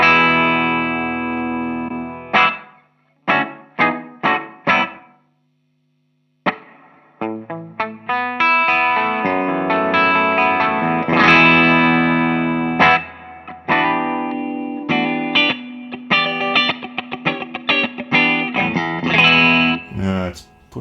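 Distorted electric guitar through a Fender Mustang Micro Plus into an amp plays picked notes and sustained chords washed in reverb, the tails ringing out between phrases.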